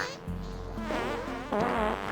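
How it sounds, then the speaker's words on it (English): Cartoonish fart noises from puffer creatures in the Factorio video game, modded with Angel's and Bob's mods, repeating in bursty pulses over a low steady hum for about two seconds. "Might want to turn the puffer fart sounds back down"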